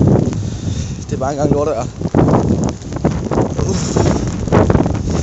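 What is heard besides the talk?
strong wind from storm Bodil near a forest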